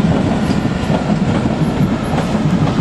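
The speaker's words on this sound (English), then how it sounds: "District Line train to Upminster, S7 stock." A London Underground District Line S7 stock train bound for Upminster runs past at Barking, its wheels giving a loud, steady rumble with faint clickety-clack and no voices.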